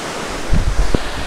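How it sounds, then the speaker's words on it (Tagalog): Imugan Falls pours down with a steady, loud broadband roar of falling water, with a few brief low thumps like wind buffeting the microphone partway through. "Narinig yung bagsak ng ano ng tubig. Grabe ang lakas, ang pressure."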